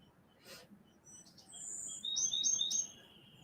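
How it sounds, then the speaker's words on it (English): Bird songs: a few bright, high chirps and whistled notes, with a longer whistle and then quick repeated trills, fairly faint over quiet background and with no talking. "These beautiful bird songs,"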